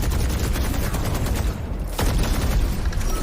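Dense, sustained gunfire in a Valorant esports match, loud and continuous with rapid overlapping shots, a brief dip in intensity midway before the firing resumes at full force.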